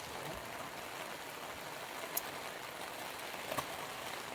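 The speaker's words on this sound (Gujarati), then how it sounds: "અહીંયા તમે જોઈ શકો છો ધોધમાર વરસાદ પડી રહ્યો છે" Heavy downpour drums steadily on and around a camper van, a dense even hiss with no letup and a couple of faint sharper drips or knocks late on.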